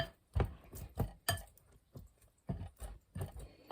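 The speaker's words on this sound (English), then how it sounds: "start cutting in this butter" A fork cutting cold butter into biscuit dough in a bowl gives a series of close, irregular soft thuds and scrapes, about eight distinct strokes with brief quiet gaps between them.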